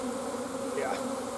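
Dense, steady hum of many honeybees buzzing close by while a nucleus colony is installed into a hive, with frames being pried apart; continuous droning throughout with no talk.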